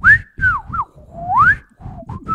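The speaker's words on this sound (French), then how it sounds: "Je siffle dans un micro, c'est pas l'idéal." A person whistles close into a microphone, producing a few short, bright, sliding notes that rise and fall in pitch, with breathy pops and thumps between the phrases.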